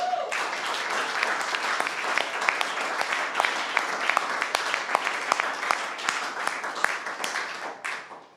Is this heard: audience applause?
yes